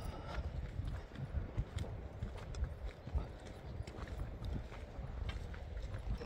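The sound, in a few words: horses clip-clopping on the Amarnath Yatra trail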